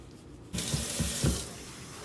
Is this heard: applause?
no